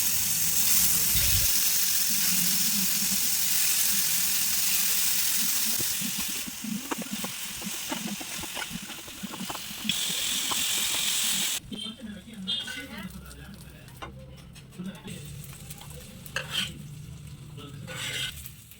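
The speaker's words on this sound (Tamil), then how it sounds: "இந்த மாதிரி பேனில் லைட்டாக ஆயில் ஊற்றி ரோஸ்ட் பண்ணி எடுத்தால் போதும்." Marinated chicken roasts in a little oil in a pan, giving a loud, bright sizzle at first. It then settles into quieter frying with scraping and clattering stirring sounds.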